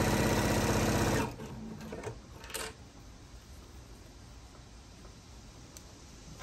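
A sewing machine stitches a tree skirt with a loud, fast mechanical whir for just over a second, then halts, leaving faint handling clicks and quiet room noise.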